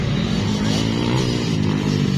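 Motocross motorcycles race on a Mindanao dirt track, their engines snarling in a loud, steady, high-revving drone that fills the whole stretch without a break.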